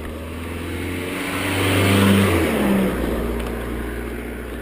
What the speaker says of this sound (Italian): Maledetti motori di merda.